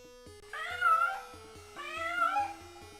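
A cat meowing in the video game Ravenloft: The Stone Prophet, two drawn-out plaintive meows spaced about a second apart over quiet, rhythmic background game music.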